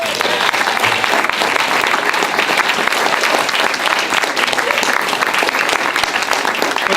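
Dense, steady audience applause from a crowd at an evening welcome event, loud and continuous throughout with no talking over it.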